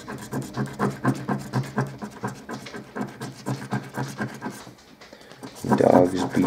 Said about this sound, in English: Dogs bebopping around back there.